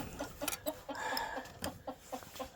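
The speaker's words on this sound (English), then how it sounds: "I got 8 hens now that hawk got 1 and Sue." Rhode Island Red hens clucking in a coop, a steady run of short, close clucks repeating in an uneven rhythm with no talk over them.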